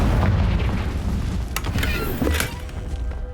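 Confringo explosion spell in Hogwarts Legacy, a loud booming blast with a sustained rumbling tail and a few sharp cracks of debris, heard alone without talk.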